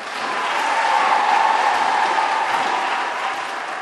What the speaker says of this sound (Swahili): Tuwapigie makofi jamani